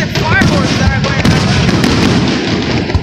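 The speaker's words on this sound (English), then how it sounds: "They just throw whatever fireworks there is there." Fireworks on the 4th of July go off close by as a dense, loud string of crackles and bangs, with whistling rising tones mixed in, and people talk underneath.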